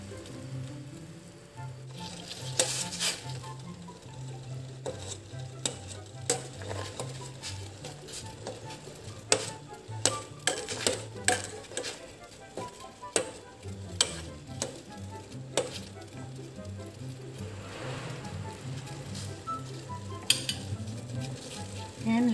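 Ginger and tomato sauté in a pot for milkfish sinigang, a steady soft sizzle with scattered ticks and clinks of a stirring utensil against the pot over a long stretch.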